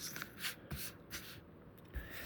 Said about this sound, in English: I'm going to shuffle them a little bit